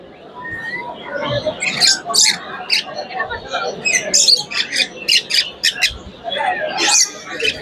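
Exotic birds at a national avian bird show give loud, repeated squawks and sharp chirps in quick bursts, close by and dense over a soft background hum.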